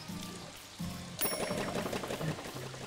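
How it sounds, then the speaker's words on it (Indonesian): Rain in the farming game Story of Seasons: Pioneers of Olive Town patters steadily across the scene as a dense hiss of drops under soft game music tones. "Oke, karena ini hujan."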